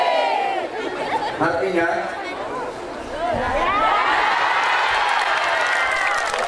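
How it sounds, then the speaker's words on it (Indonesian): A mixed audience at a lively Islamic sermon, with women and mothers clapping and shouting, gives busy crowd chatter, applause and whoops under a voice for several seconds. "begitu saya berdiri sontak yang tepuk tangan dan yang teriak itu ibu-ibu dan kaum perempuan"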